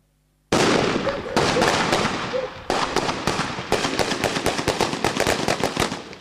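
Sudden loud bursts of rapid gunfire crackle in quick succession during a drill attack on a prison checkpoint, with sharp blasts of an explosion and echoing reports repeating over several seconds.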